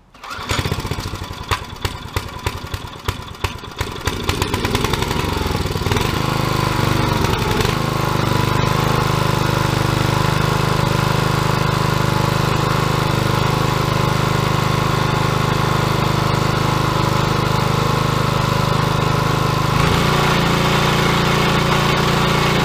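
An older Briggs & Stratton lawn mower engine sputters to life with choke and a little throttle, then settles into a loud, close, continuous roar that holds steady throughout.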